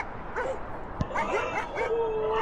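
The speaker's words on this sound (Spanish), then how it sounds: "Los ladridos ya estaban justo frente a la casa." Dogs barking and yipping with whimpering cries in a horror story sound scene outside a house at night, several sharp barks over a steady low background.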